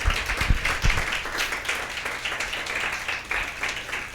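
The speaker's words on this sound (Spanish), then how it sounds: "vamos a darle un aplauso al Señor" A congregation at a Spanish-language women's church meeting applauds, a few seconds of fairly faint, even clapping from the room.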